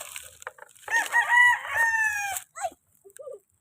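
A rooster crows once nearby, a loud drawn-out harmonic call with a rising start and falling end, among scattered soft clucks and small rustling noises, followed by a short quieter squawk.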